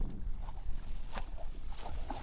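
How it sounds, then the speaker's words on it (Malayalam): A boat engine near a small island off Kanniyakumari gives a faint, low, steady rumble with light wind and water noise over it. "ഇതാണ് ബോട്ടിൻ്റെ എൻജിൻ"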